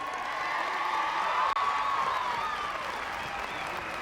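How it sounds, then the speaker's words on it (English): Spectators at the Spruce Meadows show jumping ground applaud a winning horse and rider, a broad steady wash of distant crowd clapping with a faint hum running beneath it. "we got to give a round of applause to Hickstead"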